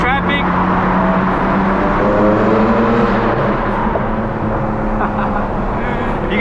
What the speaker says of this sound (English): I really wish there wasn't that much traffic